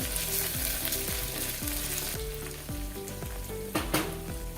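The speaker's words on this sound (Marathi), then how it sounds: "थोडं परतून घेऊया याचा कच्चा वास जाईपर्यंत" Ginger and green chilli paste sautés in a pan for Maharashtrian masale bhaat, a steady close sizzle broken by a regular series of scraping stirs and a sharper clatter near the end, with no talking.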